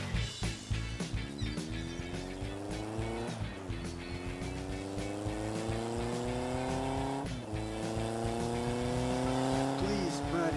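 Cartoon race cars roar through a city, with engines revving in rising sweeps that repeat several times, loud and close, over a steady low rumble and occasional tire squeal.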